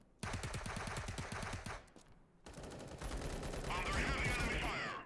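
Rapid automatic gunfire from the VR shooter Tales of Glory 2, a burst of bursts that cuts out briefly, then resumes louder and more sustained while a voice calls out over the shooting.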